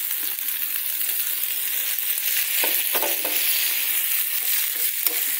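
Tomato sauce hits okra frying in a pan, a loud, steady, close sizzle with a few scraping stirs and clinks of the utensil, no voices.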